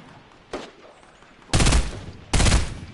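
Gunfire in Fortnite 50v50 Search and Destroy: one sharp shot, then two loud bursts of rapid fire, each about a second long, close and punchy against a quiet background.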